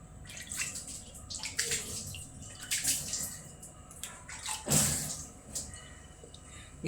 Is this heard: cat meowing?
no